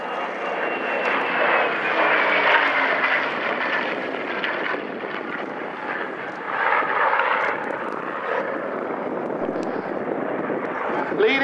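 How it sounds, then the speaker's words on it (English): Hawker Hurricane and other Battle of Britain Memorial Flight piston fighters roar past at an air show, a loud sustained propeller-engine drone that swells, dips and builds again. "we have the Battle of Britain Memorial Flight fighters."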